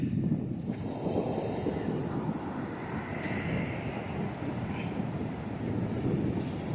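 Sea surf at Sothavilai beach, Kanyakumari, a continuous broad roar of waves below a sand dune, mixed with wind buffeting the microphone and no voices.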